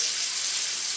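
Tap water runs steadily into a sink for rinsing during chicken piccata preparation, a continuous close hiss with no pauses.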